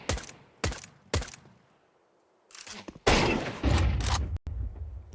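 Sharp pistol shots from a USP in a Counter-Strike pro match, three spaced cracks up close, a short lull, then a dense burst of overlapping gunfire that stops abruptly and picks up again at the end.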